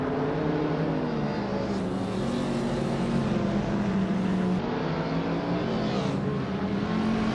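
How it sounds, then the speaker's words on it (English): Race cars launch off the line at Knockhill in a racing game, a 2016 Porsche 718 Cayman S among them. Engines drone loudly and continuously, revving and shifting pitch as the pack accelerates together. "the race just kicked off at Knockhill, and leading the pack is Bot Platigami in a sleek 2016 Porsche"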